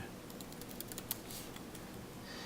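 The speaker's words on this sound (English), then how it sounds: "I need to actually type a keyword here, return" Typing on a computer keyboard, close and faint, with quick irregular key clicks in a steady stream and one sharper keystroke midway.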